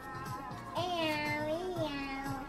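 A voice mimics the meow, meow noise a novelty cat toy makes when opened, giving two drawn-out, wavering meow sounds close up at moderate loudness.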